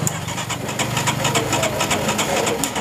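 A Hero ZMR fuel-injected motorcycle with a starting problem turns over on its self-starter, a loud, close engine chugging with a steady rapid pulse throughout.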